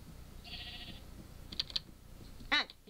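Sheep bleating in Minecraft, a short wavering bleat followed by a couple of brief clicks and a second sharp cry, close and moderately loud.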